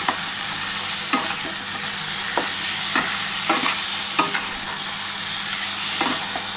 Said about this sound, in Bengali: দেখো এই যে মটনটা দিয়ে মশলাটা ভালোভাবে কষিয়ে নিয়েছি একসাথে